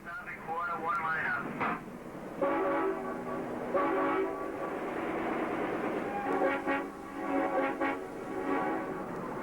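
A tugboat whistle sounds a series of short answering blasts, each a clear tonal hoot separated by brief pauses, with a voice talking between and over them at moderate distance.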